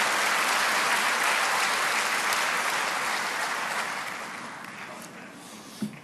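A church congregation at a late-night Holy Week service applauds to welcome an elderly pastor, a dense wash of clapping that holds steady, then gradually thins and fades away.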